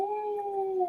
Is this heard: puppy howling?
yes